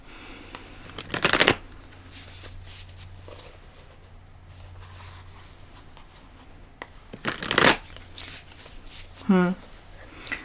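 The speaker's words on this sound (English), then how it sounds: "I'm just gonna keep pulling more cards." Tarot cards being shuffled in quick riffling bursts, two strong shuffles spaced apart and a shorter card flick near the end, with quiet speech in the background.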